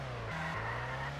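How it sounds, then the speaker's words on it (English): A race car slides and skids around Imola in a racing video game, a brief steady engine drone with a short tire squeal lifting its pitch midway, loud and without talk. "The car just sliding."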